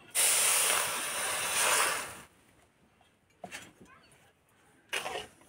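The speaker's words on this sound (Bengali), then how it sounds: "কড়াই দিয়ে দেবো চিনি," Water poured onto sugar in a hot wok while making syrup for a manohara sweet gives a loud, close hiss for about two seconds, followed by fainter sizzles and two brief hissing bursts.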